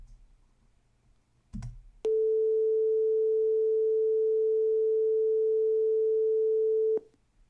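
A pure steady sine wave tone generated from a NumPy array in Python, sounding for about five seconds with abrupt start and stop, preceded by a brief click.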